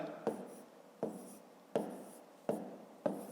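Pen strokes writing numbers by hand for a long division problem, five distinct scratchy taps spaced roughly evenly, close and quiet with silence between.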